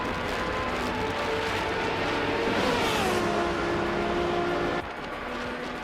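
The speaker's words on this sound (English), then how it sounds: "Schmerzen Live is driving a 2019 Radical SR3" Engine of a 2019 Radical SR3 race car in a racing video game, a steady high-pitched whine with the pitch dipping and rising through a gear change, continuous and fairly close.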